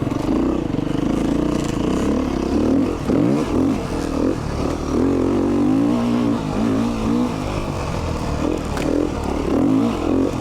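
A 2019 Beta 390 RR Race Edition dirt bike ridden on mountain single track drones steadily, its engine rising and falling as it revs, with clattering and scraping from the trail, loud and continuous.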